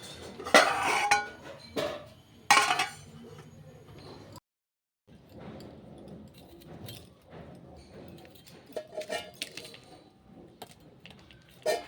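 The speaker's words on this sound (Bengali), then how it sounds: "তো মাছটা ধুয়ে নিয়ে আগে" Fish being washed in a metal pot in a home kitchen, with sharp clattering and clanking bursts early on, then softer scraping and sloshing handling noises.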